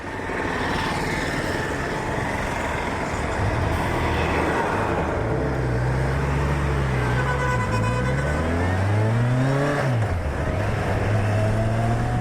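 A Kawasaki Versys 1000 motorcycle in full power mode, its engine climbing through rising revs and gear changes while riding, loud and close, with wind rush over a steady drone.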